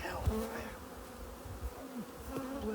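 Honey bees buzz thickly around a heather honey hive, a steady close swarm drone with individual insects rising and falling in pitch as they fly past, continuous throughout.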